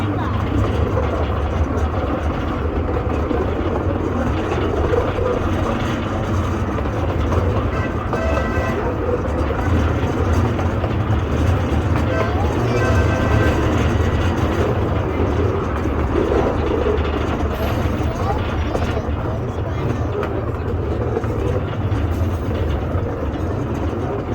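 Steady low rumble of a tourist train ride in Wimberley, Texas, with constant rolling noise, loud and continuous throughout, with indistinct voices underneath.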